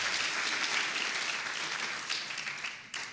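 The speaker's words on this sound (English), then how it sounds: "go ahead and give them a round of applause real quick" An audience claps steadily at a live talk event, dense applause that stays fairly even and eases slightly toward the end.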